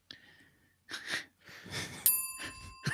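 A single bright, sustained bell chime rings out near the end during a Curse of Strahd tabletop role-play session, following several breathy, sniffling noises.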